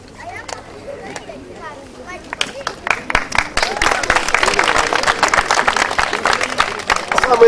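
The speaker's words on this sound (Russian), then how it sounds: "Самые бурные аплодисменты" A crowd bursts into applause at a village karaoke contest, the scattered claps building into a loud, sustained ovation mixed with cheering and chatter.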